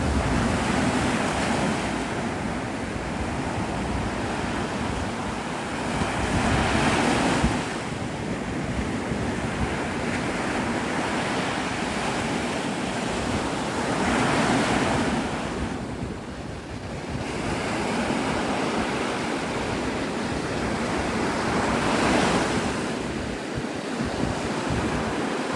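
Ocean surf rolls in as a continuous roar with slow swells rising and falling, mixed with heavy wind buffeting the microphone, with no voices.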